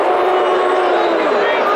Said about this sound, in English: The booing here is really high pitch.